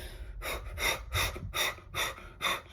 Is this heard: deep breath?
yes